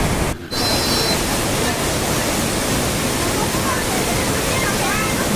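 Steady roar of the Bheemeshwara waterfall, a dense broadband rush of falling water close by that holds continuous and unchanging, apart from a brief dip near the start.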